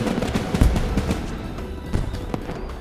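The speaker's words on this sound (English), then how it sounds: "Ships, cannons, a departure salute, not just for the fallen, but for those setting sail for unknown shores." Ship cannons fire a departure salute in Final Fantasy XIV, a few muffled booms scattered through a dense, rumbling crackle of distant blasts, with no voices.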